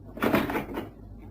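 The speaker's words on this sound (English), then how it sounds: "Close the door." A door swings shut indoors with a single muffled, shuffling thud lasting about half a second, fairly close, then a quiet room tone with no voices.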